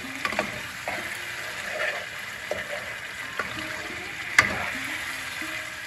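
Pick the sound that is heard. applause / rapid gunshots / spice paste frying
spice paste frying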